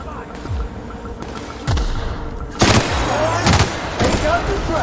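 Gunfire in the video game The Outer Worlds: several sharp shots and bursts, some with booming low thuds, repeating unevenly through a firefight, loud and close with game voices calling out in between.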